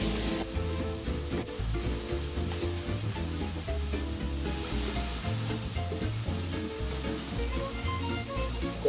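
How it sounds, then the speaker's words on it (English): Shallots and long beans fry in a hot pan for a Thai lamb pad grapow, giving a steady loud sizzle with occasional stirring scrapes and no talk. "we will start to cook off our aromatics, shallots, the long beans,"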